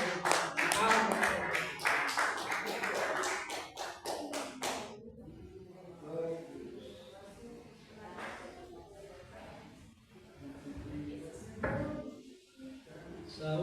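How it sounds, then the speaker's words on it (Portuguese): Church congregation clapping hard for a preacher at an evangelical worship service, a loud dense burst of applause over the first few seconds, then fading into murmur and speech from the pulpit. "Vou receber o servo de Deus com palmas bem fortes para Jesus"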